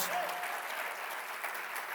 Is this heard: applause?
yes